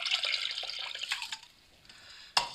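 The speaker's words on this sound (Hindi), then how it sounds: "इसी प्याले के अंदर ठंडा पानी डालेंगे या ठंडा पानी" Cold water is poured into a bowl while homemade mozzarella cheese is being made. The pour is a soft, close splashing trickle that fades out and is followed by a single sharp clink.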